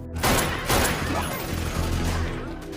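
A burst of gunfire rings out in a dense, chaotic exchange of shots with crashing impacts, loud and close, with no clear voices.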